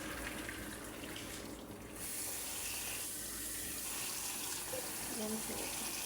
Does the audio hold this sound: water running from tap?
yes